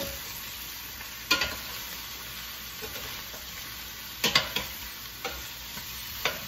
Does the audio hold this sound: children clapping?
no